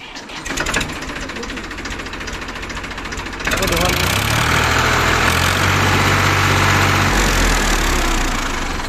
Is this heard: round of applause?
no